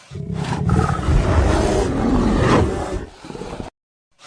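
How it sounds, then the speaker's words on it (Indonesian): A sun bear gives one loud, close, rough roar that swells and holds for about three seconds, then tails off into silence. "Ini beruang madu teman-teman."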